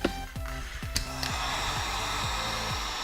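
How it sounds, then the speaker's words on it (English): Heat gun blowing a steady broadband hiss while shrinking heat shrink tubing over a quadcopter ESC connection, continuous and fairly close, with brief clicks and a low tonal hum at the start. "just use a heat gun"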